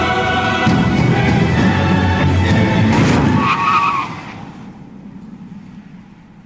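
A car skids hard with loud squealing tires before striking a woman in a short film, the screech running for about four seconds and then cutting to a quiet tail.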